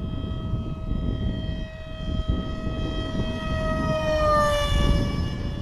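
Aircraft engine of a flying model jet in flight, a steady loud tonal whine that rises slightly in pitch as it passes closer, with wind noise underneath.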